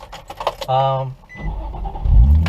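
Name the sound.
car engine starting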